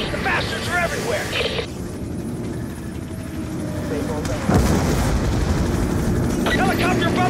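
A helicopter's low, steady rotor drone in Call of Duty: Black Ops II runs under shouted voices and bursts of action noise.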